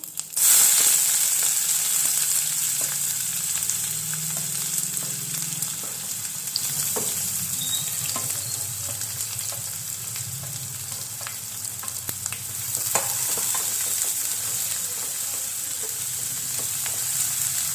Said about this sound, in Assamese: পিয়াজখিনি মই ভালদৰে ৰঙচুৱা হোৱাকৈ ভাজি ল'ম ভালদৰে